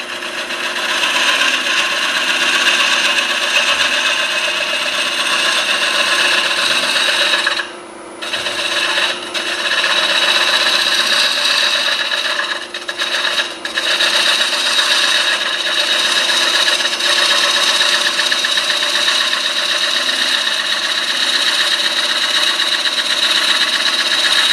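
A traditionally ground bowl gouge cuts a 12-inch red oak bowl on a wood lathe, a steady loud rasping hiss over the motor's hum, with two brief breaks where the tool lifts off the wood.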